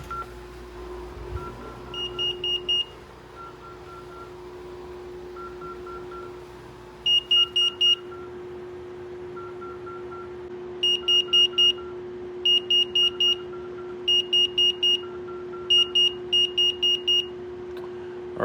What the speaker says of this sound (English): Touchpad has stopped beeping.